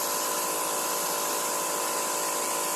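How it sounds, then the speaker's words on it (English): Pressure washer blasting a concrete slab clean, a steady, loud broadband hiss and spray roar that holds constant without a break. "And I believe the easiest way is that pressure washer here."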